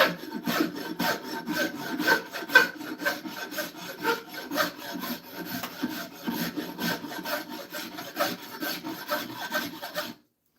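Close, loud rasping file strokes smoothing a wooden axe handle, in a quick even rhythm of roughly two strokes per second for about ten seconds before stopping abruptly.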